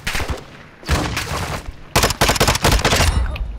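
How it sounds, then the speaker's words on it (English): Call of Duty gunfire: rapid, loud bursts of automatic shots in clustered volleys separated by brief pauses, close and dominant with no talk. "I'm taking effective fire"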